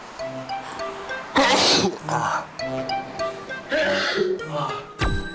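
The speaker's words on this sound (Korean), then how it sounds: "갑자기 재채기를 심하게 하는 집사" A person with a cat allergy sneezes forcefully two or three times in quick succession, close and loud, with soft background music and some vocal sounds between.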